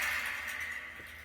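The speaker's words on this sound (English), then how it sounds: "In case you don't know, goat's toenails sound like this." Strung nut shells known as goat's toenails are shaken in a continuous, dry, clattering rattle, a dense hissy rustle with no talking.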